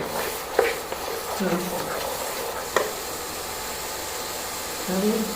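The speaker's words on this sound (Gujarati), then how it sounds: "લગભગ બે મિનિટ જેટલું ચીકુના છીણને ઘીમાં શેકી લીધું છે" Grated chikoo roasting in ghee in a pan gives a steady sizzle with occasional scrapes and stirring clatter, while a voice murmurs faintly in the background.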